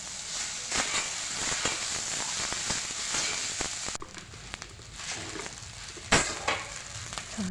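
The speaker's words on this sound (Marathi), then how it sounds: "मग तो परतून घ्यायचा छान असं." Sago pearls sauté in a pan for a fasting khichdi, giving a continuous close sizzle broken by the scrape and clatter of a spoon stirring, with a sharper burst of frying near the end.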